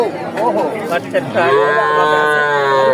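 A cow at a rural livestock market bellows one long, loud, drawn-out moo that follows brief talk and murmur from people nearby.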